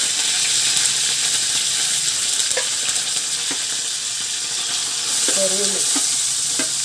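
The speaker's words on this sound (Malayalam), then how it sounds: "ഒന്ന് ചൂടാവട്ടെ കുറച്ച് കടുക് കടുപിട് പൊട്ടട്ടെ രണ്ട് വറ്റൽമുളക് കറിവേപ്പ്" Mustard seeds, dried red chillies and curry leaves sizzling in hot oil, a loud continuous hiss with a few faint pops and brief clinks of a utensil.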